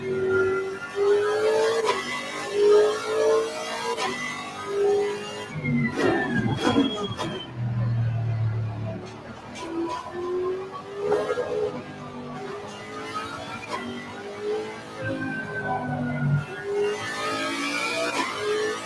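Racing car engine in a sim racing game on a warm-up sighting lap, a steady droning engine note rising and falling with gear changes throughout, loud and continuous.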